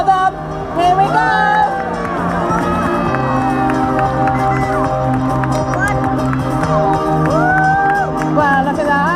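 A crowd cheers and shouts at a ploughing match and show where dancing diggers perform, a steady roar of voices with whoops, while someone talks over a loudspeaker throughout.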